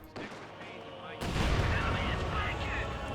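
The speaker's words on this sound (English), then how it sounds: "Landmine detonation there on that Grenadier." A landmine detonates under a Grenadier in Company of Heroes 2: after a quieter stretch of battle noise, a sudden loud, close blast erupts and rolls on as heavy rumbling gunfire and explosions.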